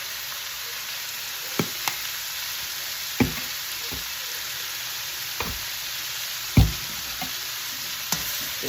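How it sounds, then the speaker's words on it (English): Vegetables stir-frying in a pan, a steady hiss of sizzling broken by occasional knocks and scrapes of a utensil against the pan. "we're going to let this stir fry a little bit too"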